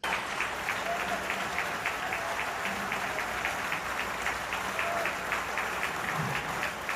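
Steady applause from an audience, a dense even patter of clapping that carries on at moderate volume throughout.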